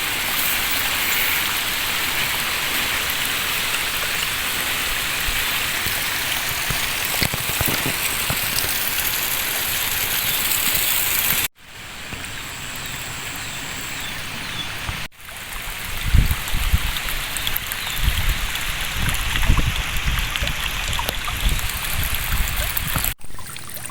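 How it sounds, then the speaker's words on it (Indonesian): Clear river water rushes steadily past rice paddies, a dense continuous splashing and trickling that stays close and loud, with a couple of abrupt cuts and a fuller, bubbling stretch later on. "Nah, di sana ada sungai. Ini air yang biasa mengaliri pesawahan warga setempat ya."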